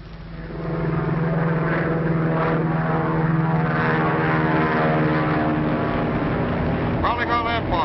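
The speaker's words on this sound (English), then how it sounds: "Be on lookout for Brown High Wing monoplane, number 12H45." A brown high-wing propeller monoplane drones loudly and steadily overhead in a 1936 film, its engine rising in and holding for several seconds with a slight pitch shift near the end.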